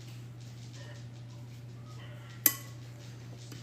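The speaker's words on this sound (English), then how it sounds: "Let me grab a spoon." A spoon grabbed among dishes gives one sharp metallic clink against crockery, close up, over a steady low hum and faint room noise.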